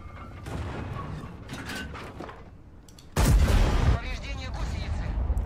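A tank cannon fires in World of Tanks from the Object 277, a sudden loud boom that swells into a long rumbling tail after a stretch of quieter engine and battle noise, with no speech.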